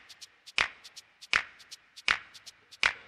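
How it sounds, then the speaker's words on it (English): A finger-snap sample on a Roland Fantom 0 synthesizer plays on beats two and four, four sharp dry snaps alternating with faint quick ticks in a steady groove, close and clear with no voices. "This is my snap. And it's on 2 and 4."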